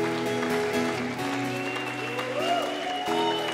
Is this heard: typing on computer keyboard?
no